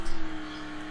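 A Porsche 918 hypercar in the Roblox driving game accelerates hard, its engine note a steady loud drone with a brief pulsing surge at the start, heard alone for under a second.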